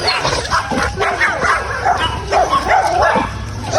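Two Yorkie dogs bark in quick, high yips and short whimpers, close and loud, with people talking in between.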